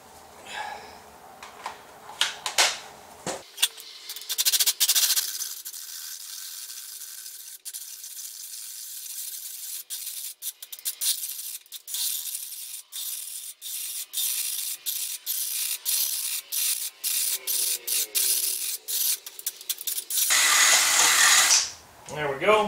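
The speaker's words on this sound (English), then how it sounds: "We're gonna drill her out." A power drill whirs in bursts boring out a metal plate on a lawn vacuum, with grinding and scraping between runs and louder rubbing noises at the start and end.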